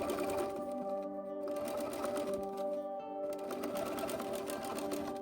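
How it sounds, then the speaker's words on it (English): A domestic sewing machine runs steadily in one continuous burst, understitching a dress lining close to the seam with the seam allowance folded toward the lining; a fast, even mechanical whir with no talking. "we're going to take it to the machine and have the seam folded towards the lining and just do a pretty close stitch along this seam"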